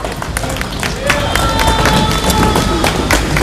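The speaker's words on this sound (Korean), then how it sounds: "박수 부탁드립니다" An audience at a political rally applauds and cheers, a broad wash of clapping that swells after the first second and holds steady, with crowd noise mixed in.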